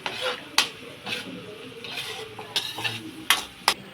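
Country chicken masala curry stirred in a pan, with sharp spoon clinks and scrapes against the metal in an irregular rhythm over a low sizzle, loud and close.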